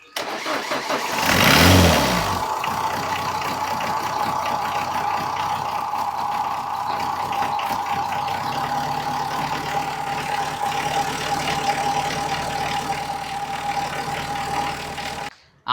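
A Ford Ikon car engine cranks and catches with a loud start and a brief rev, then settles into a steady, fairly loud idle that runs on to the end. No voices are heard.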